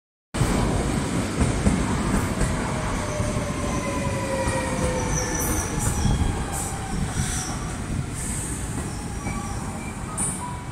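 An NS passenger train in the Netherlands on the line toward Arnhem rolls past close by, giving a steady loud rumble with whining wheel squeals and faint high tones throughout, and no voices.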